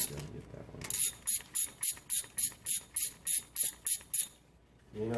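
A ratchet clicks in quick, even bursts, about a dozen close, crisp strokes in a row, as valve cover screws are backed off on a Toyota Camry 2.4L engine with no one talking.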